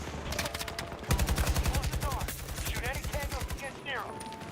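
Rapid automatic AK rifle fire in a video game, a long sustained burst of evenly spaced loud shots running for about three seconds, with game sounds and faint voices around it.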